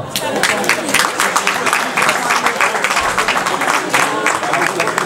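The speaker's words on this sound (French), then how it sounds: "On peut les applaudir." A crowd claps in steady applause after a sports match, dense and fairly loud, with some murmuring voices mixed in.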